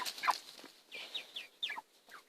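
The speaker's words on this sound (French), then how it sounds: "j'ai une magnifique poule" A Marans-Sussex cross hen clucks and chatters in short, rapid bursts nearby, with a few quick throaty calls tumbling one after another.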